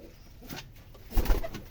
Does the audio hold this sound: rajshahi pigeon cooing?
yes